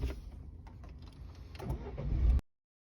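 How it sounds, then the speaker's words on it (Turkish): A car engine started with the ignition key, gear in neutral and brake pressed during a driving lesson: quiet starter cranking that swells into a brief louder catch of the engine before cutting off, alone without talk. "Vitesi boşa aldıktan sonra kontağı çeviriyoruz."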